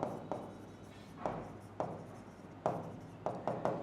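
Pen or chalk scratching out a geometry area formula in short strokes and bursts, faint and close, with pauses between marks and no speech.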